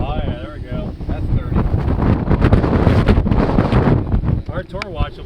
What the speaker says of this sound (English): We've been gusting up to about 25, maybe a couple 30s in there